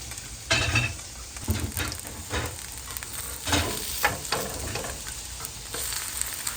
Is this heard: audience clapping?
no